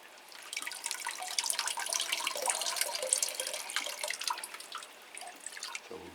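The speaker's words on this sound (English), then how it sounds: "So we'll give this a good water." Water poured over a potted plant and its leaves, a continuous close splashing and trickling patter that tapers off at the end.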